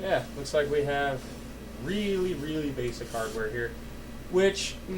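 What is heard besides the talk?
No distinct noise like a dog, phone or traffic.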